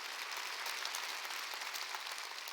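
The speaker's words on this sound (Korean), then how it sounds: "박수" Steady applause from a church congregation at a Wednesday worship service, quiet and distant, a continuous even wash of many hands clapping with no talk.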